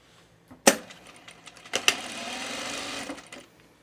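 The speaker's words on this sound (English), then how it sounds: "now you're going to sew your underarm" A sewing machine stitches the underarm seam of a blazer after a few sharp clicks and handling knocks, then runs in one steady, close whir for over a second before stopping.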